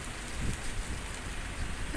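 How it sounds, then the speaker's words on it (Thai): Rain beginning to fall amid strong wind, hissing down in a dense broadband wash with a low rumble beneath, constant and fairly close, no voices. "อุ้ยฝนลงเม็ดแล้ว"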